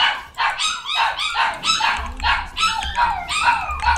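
A small pet puppy barks over and over in sharp, high yips, close and loud, with a faint low rumble coming in behind it during the second half.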